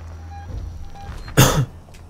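A single short, harsh cough bursts out near the mic over a quiet, humming background, during play of the video game Alien: Isolation.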